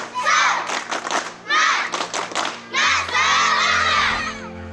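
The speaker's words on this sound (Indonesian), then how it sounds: "Tepuk semangat!" A group shouts a rhythmic spirit clap cheer at a remote Indonesian school, with bursts of sharp claps and thumps mixed with loud, overlapping voices.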